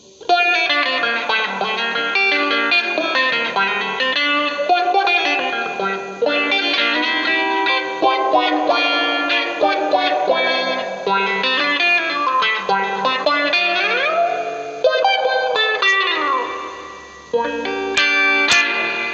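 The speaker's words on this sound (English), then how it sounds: "This is a touch wah." Electric guitar lines through a Mooer GE100 touch wah, an envelope-controlled wah that sweeps its tone on each note, played continuously and fairly loud with no talking.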